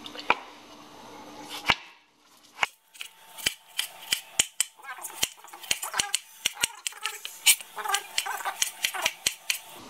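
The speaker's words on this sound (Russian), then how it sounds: "Режем кубиками помидор." A knife chops a tomato into cubes on a cutting board, a series of sharp, close taps coming irregularly then quickening into a steady rhythm, with a voice talking faintly between cuts.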